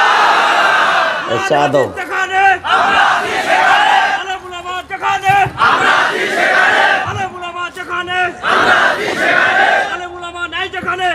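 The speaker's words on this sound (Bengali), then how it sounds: "যে তাকবীর দিচ্ছেন মারেন এবার জোরে" A large crowd at an Islamic sermon gathering in Bangladesh shouts the takbir chant loudly in repeated surging waves, with a preacher's voice briefly speaking between the shouts.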